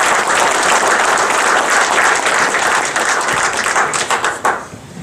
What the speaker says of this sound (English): let's give him a round of applause for coming out here